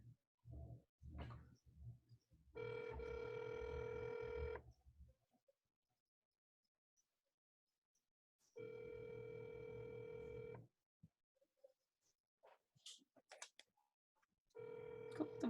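An outgoing telephone call rings through a Zoom connection: two long ringback tones with a pause between them, a third starting at the end, and faint clicks and line noise in the gaps.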